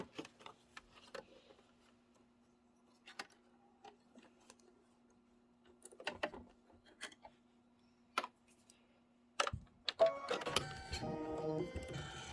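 An embroidery machine stitches hearts onto a linen eye mask in sparse, ticking clicks and taps, quiet and spaced out, before a louder, denser mechanical whir rises near the end.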